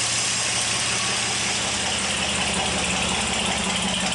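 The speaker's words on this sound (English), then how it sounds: "Might be running a little bit fast, but I am very happy with this Holley carburetor." The engine of a 1964 GMC runs steadily on a newly fitted Holley carburetor, a close, loud and even idle with a slightly fast, throbbing pulse and no talk.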